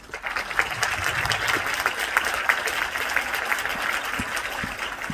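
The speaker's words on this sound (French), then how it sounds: "Je pense qu'on peut les applaudir" An audience at a short-film festival screening applauds, a sustained round of clapping from many hands in a room that holds steady for about five seconds.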